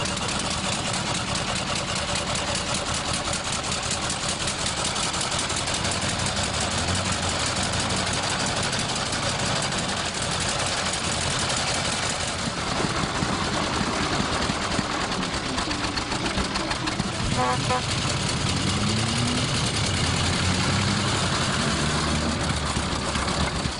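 A vintage car engine idles roughly after its choke-less carburettor has been flooded, a steady close mechanical chug running without a break for the whole stretch.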